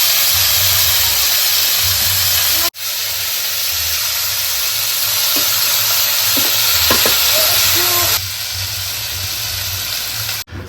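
Potatoes fry as aloo bhaja in a pan over a clay village stove, a loud continuous sizzle and steamy hiss with occasional stirring clinks, no voices.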